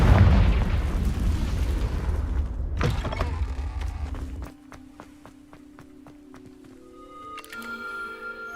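A Confringo explosive spell blast in the video game Hogwarts Legacy lands as a loud, rumbling burst that cuts off sharply after a few seconds, leaving quieter clicking and ticking game sounds.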